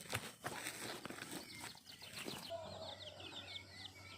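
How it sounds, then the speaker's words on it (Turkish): Faint clucking of hens mixed with high, thin peeping of chicks, with footsteps and shuffling nearby in a village; the peeps grow clearer toward the end. "Bak orada tavuklarımız ve yavruları var"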